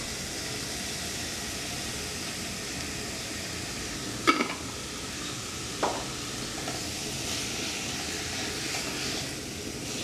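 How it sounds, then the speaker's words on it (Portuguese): Rice sautéing in seasoning in a pan gives a steady close sizzle and hiss throughout, broken by a couple of brief stirring scrapes. "Deixa eu dar uma refogada novamente. Vou colocar o nosso arroz."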